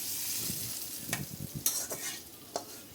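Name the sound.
onion frying in ghee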